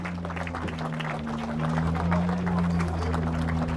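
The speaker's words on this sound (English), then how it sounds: "A round of applause there for the crew of Tommy 1." A powerboat racing championship crowd gives a round of applause for a winning catamaran crew at a prize-giving in Fiumicino, Italy. The clapping is a steady dense patter, growing slightly louder midway, over a constant low hum.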